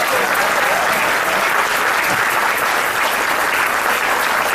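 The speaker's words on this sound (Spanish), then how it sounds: "Le podemos dar otro aplauso." A crowd applauds a quartet at a praise-music gathering. The clapping is dense, loud and sustained, with no break throughout.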